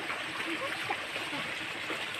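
Cold spring water flowing steadily out in the rural provinces, a continuous close rushing and gurgling stream with no pauses and no talk over it.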